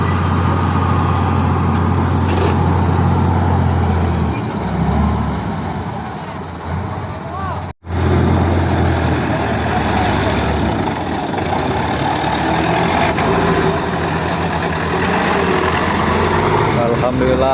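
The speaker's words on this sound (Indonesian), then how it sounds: "Sudah datang alat untuk evakuasinya menggunakan doser Komatsu D65E" Komatsu D65E bulldozer engine running at steady load during recovery of a tilted dump truck, a loud continuous low rumble with a brief cutout midway, voices talking over it.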